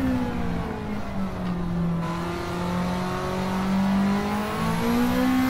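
A Toyota AE86 races in Gran Turismo 7, its engine holding a steady high-revving drone with pitch slowly rising and falling through corners, continuous and fairly loud.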